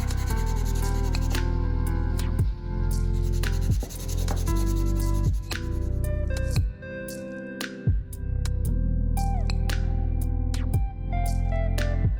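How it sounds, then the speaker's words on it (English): Scratchy hand-sanding strokes on a wooden spoon carved from an old skateboard rasp back and forth in a steady rhythm, partly buried under loud background music. "Sanding and shaping complete. Sand phase 2 begins."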